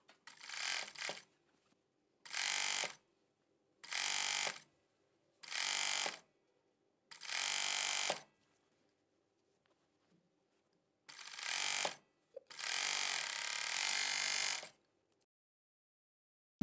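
A 4-thread Jack overlock sewing machine stitching a sweatshirt seam, running in seven bursts of a second or two each, the last one longest, separated by silences. Each burst is a steady, close whirring mechanical drone with no talking.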